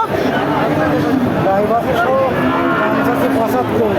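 A dairy cow with her calf at a cattle market lows repeatedly in long drawn moos, close and loud over the busy murmur of a crowd and someone talking.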